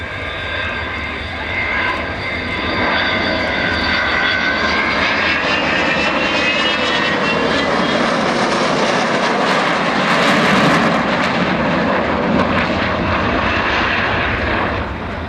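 An Avro Vulcan jet bomber takes off at the 2011 Waddington air display, its engines a loud, continuous roar with rising whining tones that builds and holds steady throughout.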